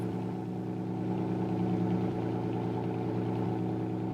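A Ferrari Enzo engine idles in a racing video game, a steady, close low hum with a rich harmonic drone that holds evenly throughout with no talk.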